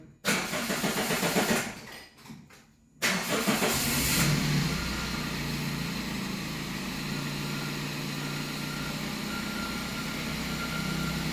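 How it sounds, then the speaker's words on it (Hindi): A car engine cranks briefly, then catches and settles into a steady, loud idle at close range. It runs on continuously with no voices, during a test of narrowband and wideband oxygen sensors. "गाड़ी स्टार्ट कर, ये टाइम लेगी थोड़ा सा।"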